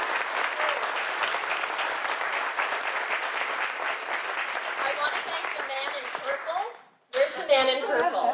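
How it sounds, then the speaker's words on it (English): A groundbreaking ceremony crowd bursts into dense, steady applause with scattered voices, which fades and cuts off sharply, then a speaker talks over a few lingering claps. "So a huge round of applause, hopefully,"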